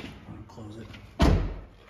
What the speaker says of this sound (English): Now that we have our code, we're going to lock our door.